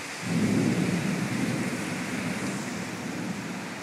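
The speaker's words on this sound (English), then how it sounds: "I'd estimate winds here probably just had 65 mile per hour winds" Microburst thunderstorm in northeast Philadelphia: a loud, steady roar of wind-driven rain and gusts near 65 mph, swelling quickly at the start and holding at full strength throughout, with no voices.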